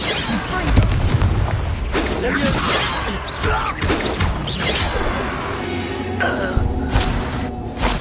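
A Confringo blasting spell goes off in Hogwarts Legacy, booming and crashing amid a dense, loud jumble of game effects, clattering debris and music that runs through the whole moment.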